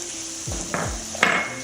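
Garlic sizzling as it fries alongside pork belly in a pan, a close crackling hiss with a few utensil clinks and stirring scrapes.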